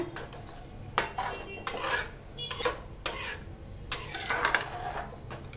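A spoon mixes matar pulao ingredients inside a pressure cooker, scraping and clanking against the metal in repeated close, irregular strokes over a steady low hum, without any talking.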